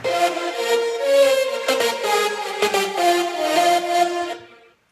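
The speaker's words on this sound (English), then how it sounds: "So all lead sounds together sound like this." A layered synth lead plays a bright melody over sustained tones, with short percussive accents, fading out at the end.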